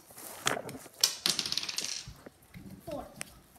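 Dice thrown and clattering during a family board game at home, a few quick rattling bursts and knocks at close range, with people talking around the rolls.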